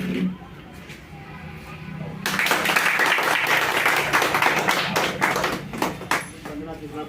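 A crowd applauds at a ribbon-cutting inauguration of an auto garage in a village near Surat, with loud, sustained clapping that starts abruptly and continues for several seconds, while voices talk over it.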